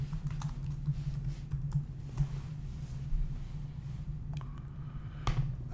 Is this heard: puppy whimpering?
no